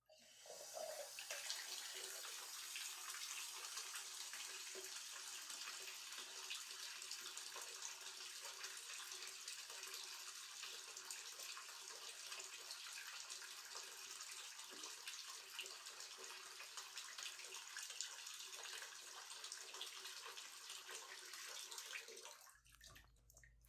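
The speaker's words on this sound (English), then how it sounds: "I think I need to add more water to my bath, though." Running water from a tap streams into a bathtub for a bath, a steady close hiss of water splashing in that ends abruptly when the flow stops.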